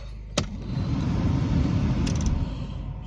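A car engine cranks over and rumbles into a steady idle in freezing cold with a frozen gearbox, a brief sharp click at the start and a loud low drone held throughout, with no talk.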